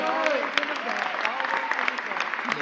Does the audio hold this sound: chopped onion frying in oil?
no